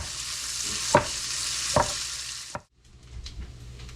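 Bacon crisping in a pan, a loud steady hiss of sizzling fat broken by a few sharp utensil scrapes, then abruptly dropping to a quieter crackle.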